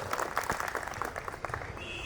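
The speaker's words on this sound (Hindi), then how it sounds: "जोरदार तालियों से स्वागत करें।" Applause from an audience at an intellectuals' conference in Guna, Madhya Pradesh, a dense patter of clapping that carries steadily through the whole moment at moderate loudness.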